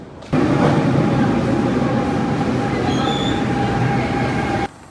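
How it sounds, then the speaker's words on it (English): A Paris train rumbles loudly and steadily past, with a broad roar and a faint high whine of wheels on rails, starting and stopping abruptly. "So the next train is ours."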